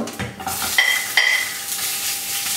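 Onions dropped into fresh oil in a cocotte for ratatouille, a sizzle rising under a couple of bright metallic clinks and stirring scrapes, close and moderately loud.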